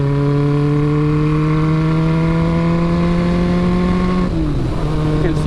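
Honda CB550 motorcycle engine pulling smoothly through steady acceleration, a strong continuous exhaust drone rising gradually in pitch for about four seconds, then dipping briefly as the revs shift before climbing again, close and loud.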